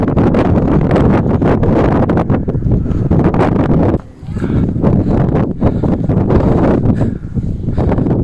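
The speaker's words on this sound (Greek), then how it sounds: "Φυσάει άπειρα, δεν ξέρω αν ακούγεται." Strong wind at Edinburgh's highest point batters the microphone in loud continuous gusts and rumbling buffets, briefly easing once before roaring back.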